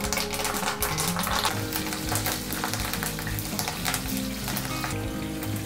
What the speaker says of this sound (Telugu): ఆయిల్ హీట్ అయింది కదా, జీలకర్ర ఆవాలు వేసుకుందాం.